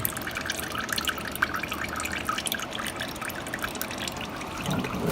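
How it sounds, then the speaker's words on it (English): Engine oil dripping and trickling out of a car's drain during an oil change, a steady close wet patter that runs continuously without talk. "It's going to drip for probably another minute or so, so just let it drip for a little while."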